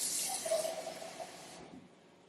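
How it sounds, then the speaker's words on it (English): Water pours into a pot of pinto beans, a soft splashing stream that fades out after about a second and a half, quiet and close. "Just put about a couple, 3 or 4 ounces of water in there"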